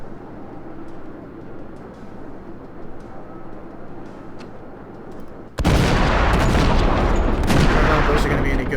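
Naval guns firing and shells hitting in World of Warships, aboard the Phoenix cruiser: a quiet stretch, then a sudden loud, sustained roar of heavy gunfire and impacts filling the last few seconds.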